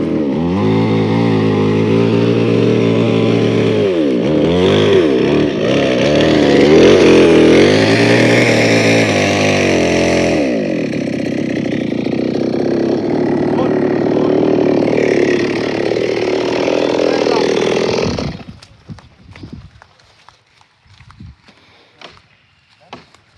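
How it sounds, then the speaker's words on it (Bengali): A chainsaw roars loudly and continuously while cutting down a tree outdoors, its pitch rising and dipping as the blade bites. It cuts off abruptly near the end and gives way to scattered rustling and cracking, with someone talking over the engine. "সেই গাছ মেশিন দিয়ে কাটছে"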